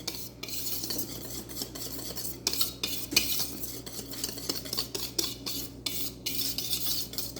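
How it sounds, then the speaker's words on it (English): A whisk beats confectioners' sugar and Hershey's cocoa in a bowl, giving fast, continuous scraping and clinking strokes, close and steady with no voices. "I'm just going to stir this up and give this a good whisk"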